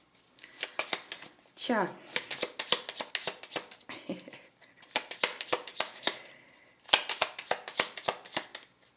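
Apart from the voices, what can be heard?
shuffling cards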